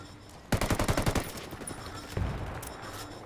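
Rapid automatic gunfire in a competitive shooter game match, a loud burst of about a dozen close shots, then a second shorter volley over a low background rumble.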